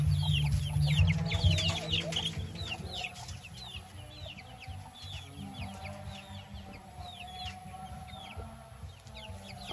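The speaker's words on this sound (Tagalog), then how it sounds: "Malalaki na po yung mga manok ni Brenda." Chickens clucking in a farmyard, several birds calling in short overlapping bursts, with steady background noise and a low rumble early on.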